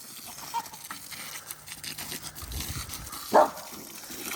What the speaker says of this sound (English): Good thing we have a cattle dog.